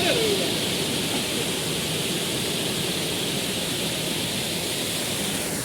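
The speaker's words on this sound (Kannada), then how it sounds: "ಸಕ್ಕತ್ ಫೋರ್ಸಾಗಿ ಬರ್ತೈತೆ ನೀರು." A small roadside waterfall on the road from Horanadu to Sringeri gushes forcefully, producing a loud, steady roar of rushing water close by, with no voices heard.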